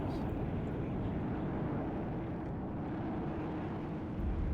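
A steady low roar of a bomber aircraft in the WARNO strategy game drones continuously and fairly loud, a broad engine rumble with a faint voice underneath.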